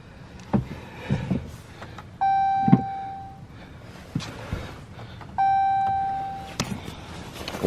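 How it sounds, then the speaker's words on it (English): A Dodge Charger that won't start is cranked repeatedly. Short mechanical clunks and clicks are interrupted twice by a sustained electronic chime, with no engine catching. The sounds are close and moderately loud. "Crank that little V4 up"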